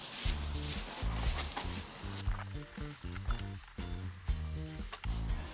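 Surgical spirit degreaser is wiped by hand onto a car bumper, producing repeated squeaky rubbing strokes in an uneven rhythm, close and moderately quiet, with no speech.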